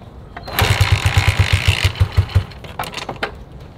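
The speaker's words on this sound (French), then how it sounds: "starter." A motorcycle engine on a solo road trip cranks with a rapid, rhythmic starter chug for about two seconds, then catches and runs, loud and close.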